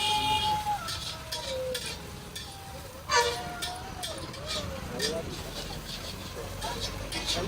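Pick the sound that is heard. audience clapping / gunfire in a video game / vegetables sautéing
vegetables sautéing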